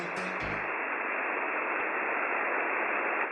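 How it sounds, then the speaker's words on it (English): Radio broadcast static from a Massachusetts frequency, a dense steady hiss of white noise that opens with a brief tonal blip and then runs on evenly. "Some of these codes reference an actual radio frequency in Massachusetts"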